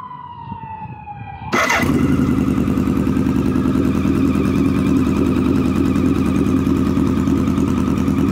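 A 1986 BMW K100 motorcycle engine catches after a brief high whine and settles into a loud, steady close idle that hums on without a break.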